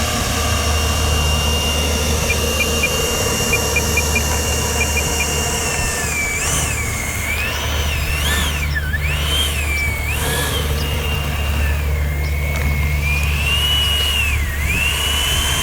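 A battery-powered RC model jet taxis on the ground with a loud, continuous electric ducted-fan whine that rises and dips in pitch as the throttle changes, over a steady low hum.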